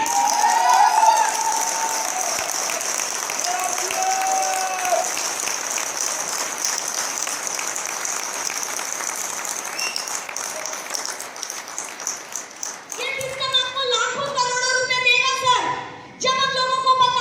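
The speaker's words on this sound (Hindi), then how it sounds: "एक जोरदार तालियां चाहूंगी" An audience gives a long, loud round of applause, the dense clapping going on for about twelve seconds before it fades and musical tones take over.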